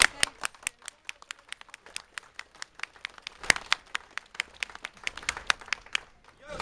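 Applause at a city protest rally: a crowd claps in crisp, uneven bursts throughout, fairly close and steady.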